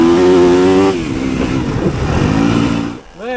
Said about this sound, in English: that's a fast bike